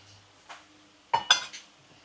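A spoon clinks against a pot while stirring a marinade with sugar and coriander seeds, a few sharp metallic knocks and scrapes, isolated and close, with quiet gaps between.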